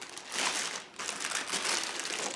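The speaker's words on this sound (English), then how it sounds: "Let's take it away from this plastic bag." A Tesla CHAdeMO charging adapter being pulled out of its plastic bag, giving continuous close, loud crinkling and rustling with a short dip near the middle, and no talk.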